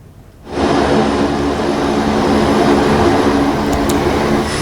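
Engines of a Hercules military transport aircraft, used to carry emergency power-tower materials for flood-hit Aceh, start with a sudden roar after a quiet moment and then hold a loud, steady, broadband drone throughout.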